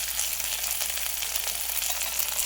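Cashews fry in hot oil with coriander leaves for jeera rice, making a dense, even, close hiss that runs without a break and with no voices.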